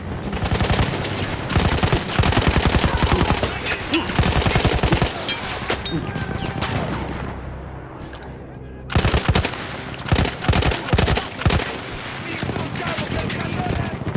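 Mounted machine gun in the World War I shooter Battlefield 1 fires sustained loud bursts, with short gaps and a pause midway before firing resumes, amid battle noise and some voices.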